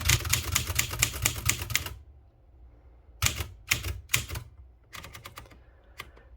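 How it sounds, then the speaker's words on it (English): Keys strike on a Princess 500 manual typewriter in quick sharp clacks: a fast run of keystrokes, a short pause, then scattered bursts of single taps, close and crisp. "I do some more typing next to what I've just done"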